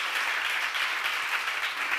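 Congregation clapping at a church seminar, a brief, fairly soft but continuous patter of many hands in a hall with no voices over it.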